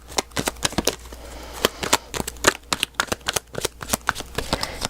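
Rapid crisp riffling of tarot cards being shuffled up close, a dense run of sharp papery flicks in quick bursts with no talking.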